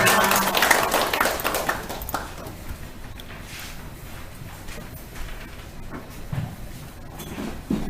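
Congregation in a church clapping in applause, a burst of sharp claps early that quickly thins and fades into quieter room noise.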